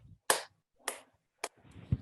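Three crisp hand claps spaced about half a second apart, close and dry in a quiet room, used as a simple beat for children's music, followed by a few softer taps and faint rustling.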